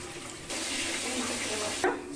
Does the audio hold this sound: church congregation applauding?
no